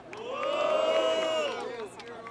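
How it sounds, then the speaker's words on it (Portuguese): A crowd at a Brazilian rap battle lets out a collective yell and cheer that swells, holds for about a second and fades, with a voice shouting within it. "Quem acha que foi o Mose? Passa barulho"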